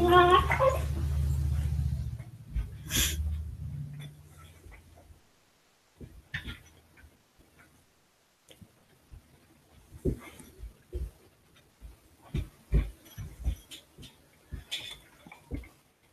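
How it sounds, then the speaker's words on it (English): Dogs scuffle in a burst of snarling and yelping up close, loud for the first few seconds, then fading into scattered faint yips, whimpers and clicks. "Oh, my dogs are fighting."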